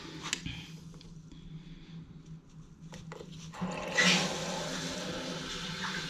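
Water runs into a refitted second-hand toilet's cistern after the supply is turned on, beginning as a low hiss and rising into a steady rushing fill, close by.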